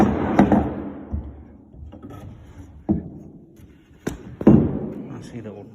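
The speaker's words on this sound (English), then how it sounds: "See, the door opens nice and evenly." The door in the end wall of a low-cost PVC hoop house swings open, giving a few hollow thumps and clacks of the frame and latch, with mechanical creaks between the knocks at close range.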